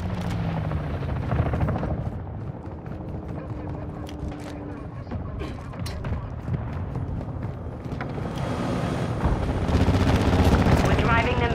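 A helicopter drones steadily through a Call of Duty: Modern Warfare III battle while rapid gunfire crackles throughout, with scattered bursts and impacts over a continuous loud mix.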